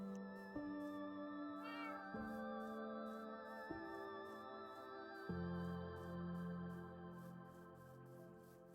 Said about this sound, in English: I love the cats so much, but they are quite loud. they make a fair amount of noise.